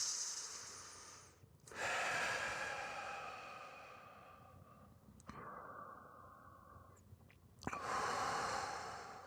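Slow, deep breaths during a yoga forward fold, long airy inhales and exhales with short pauses between them, close and soft with no talking.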